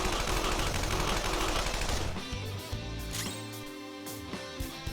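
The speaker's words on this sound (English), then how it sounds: "May as well shoot anyway." Gunfire in the Persona 5 Royal video game: a dense, loud burst of rapid shots fills the first two seconds, then gives way to a few sharper, scattered hits over a quieter musical background.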